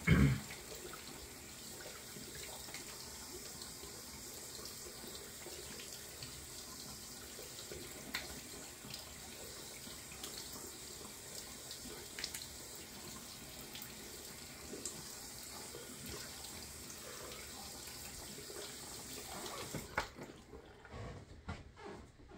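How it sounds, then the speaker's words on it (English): A bathroom tap runs steadily as cold water rinses off a face after shaving, a continuous close hiss of flowing water into a sink that carries on for about twenty seconds before cutting off abruptly. "cold water rinse"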